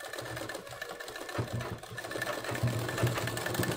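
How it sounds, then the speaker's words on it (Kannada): A sewing machine stitches along the edge of a blouse. It runs in a steady mechanical whir that starts and stops in short bursts, close and fairly loud, with no voices. "ನೋಡಿ ಈ ಥರ ಎಡ್ಜಿಗೆ ಒಂದು ಸ್ಟಿಚ್ ಹಾಕಿ"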